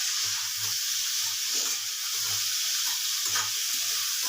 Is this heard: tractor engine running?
no